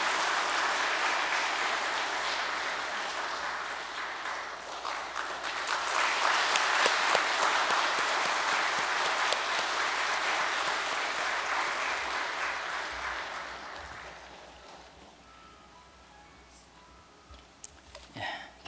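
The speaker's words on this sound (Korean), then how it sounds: "다시 한번 우리의 결의의 마음을 나와서 큰 박수로 참 부모님께 영광을" Steady crowd applause at a church rally, swelling midway and then fading out, with scattered final claps near the end.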